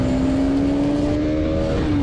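A KTM Duke 200 motorcycle accelerating hard in second gear on an open road, a loud, steady engine note whose pitch climbs slightly, heard up close over heavy wind rush.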